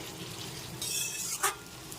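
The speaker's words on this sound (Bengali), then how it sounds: "ভালো করে একটু মশলার সাথে নেড়ে ছেড়ে নিচ্ছি দু মিনিট" Rohu fish curry with potato, pointed gourd and spices is stirred and fried in a pan, a soft sizzle with a brief louder scrape near the middle, fairly quiet.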